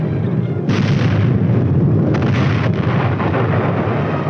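A 1950s US Army tank gun fires and strikes an enemy target, a sudden loud blast followed by a sustained, heavy rumbling roar that carries on for several seconds.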